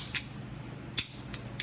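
A Ruger LCP pistol, Tex Coyote edition, gives crisp, faint trigger-reset clicks: one near the start, one at about one second, then two more close together near the end, with no talk.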